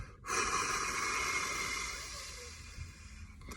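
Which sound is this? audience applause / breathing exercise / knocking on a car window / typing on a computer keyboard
breathing exercise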